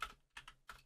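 Quiet computer keyboard typing while entering code, three short clusters of soft key clicks in quick succession.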